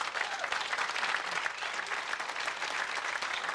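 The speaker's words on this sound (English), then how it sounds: "before you applaud too loudly" Dinner audience applause at a Utah Democratic Party Jefferson Jackson Dinner, a dense, sustained burst of many hands clapping in a large room, steady and fairly loud for its whole short length.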